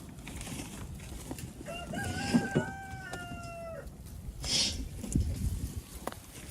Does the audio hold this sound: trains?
no